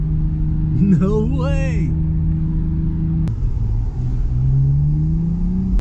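A 150bhp Lexus drifting around a bend carries a steady, droning engine note under loud in-car exclamations, with a sharp knock midway and the engine tone slowly rising afterward.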